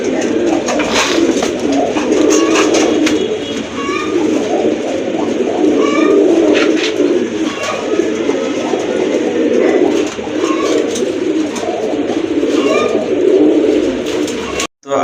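A pair of fancy pigeons, sold as Rajgolla, coo repeatedly and loudly at close range, their throaty rolling calls layered over one another with no talk.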